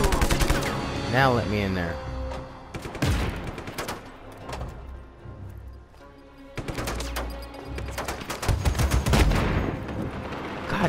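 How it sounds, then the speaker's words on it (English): Gunfire in Just Cause 3 crackles in dense automatic bursts that come and go, loud and close, with someone talking briefly over the shooting. "Shoot his ass."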